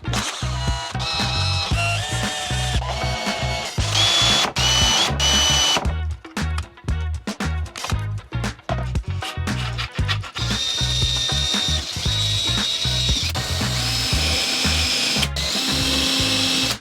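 Power drill driving bolts into the chassis of a very long RC car, a loud steady motor whine broken by repeated short bursts and ratcheting pauses, close up with no talking.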